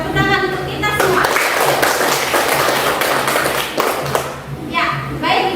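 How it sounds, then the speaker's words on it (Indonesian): Classroom applause from a group of students, steady dense clapping for about four seconds, close and fairly loud, with a teacher's voice speaking before and after. "Tepuk tangan untuk kita semua"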